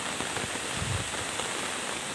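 Steady rain falls through a rainy afternoon in Thailand as a tropical storm approaches, a dense, even hiss that holds at the same level throughout with no voices.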